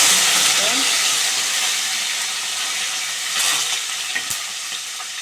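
Curry leaves and mustard seeds fry in oil over a slow flame for bitter gourd gojju, giving a loud, steady broadband sizzle with a few faint crackles and pops, close and continuous with no talking.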